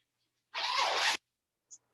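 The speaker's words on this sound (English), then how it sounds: "So right in your underarms, there's a zipper." A rain jacket's underarm pit zip is pulled in a single quick, close zipping stroke lasting about half a second, then a tiny click in near silence.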